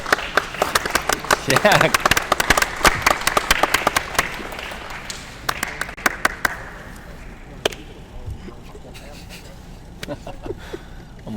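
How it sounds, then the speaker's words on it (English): An audience at a pool match claps in scattered bursts that are loud at first and then thin out to a few lone claps, with a voice talking over them. "Try to get some claps in the building."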